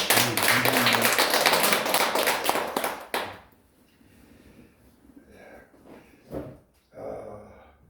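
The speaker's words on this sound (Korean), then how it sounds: "더 발전하라고 우리 박수합니다" Church congregation clapping after a sermon remark, a loud close burst of many hands for about three seconds that cuts off abruptly, followed by quiet room tone with a few scattered taps and small movements.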